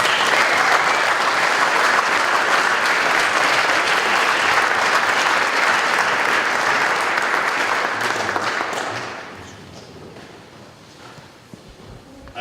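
A graduation ceremony audience breaks into loud, sustained applause that holds steady for about nine seconds, then quickly fades to scattered claps and quiet room noise.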